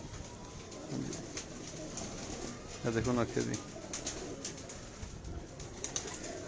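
Teddy pigeons coo in low, throaty bursts around someone talking close by, with the cooing rising most clearly partway through.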